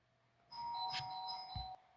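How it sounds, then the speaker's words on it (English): A home doorbell chimes once with a sustained two-tone ring, quiet and somewhat distant, ringing out for over a second before cutting off. "someone kept ringing the doorbell"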